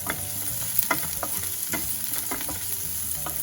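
Onions frying in a pan for a vegetable Manchow soup give a steady close sizzle, with scraping stirs of a spoon at intervals and no talk.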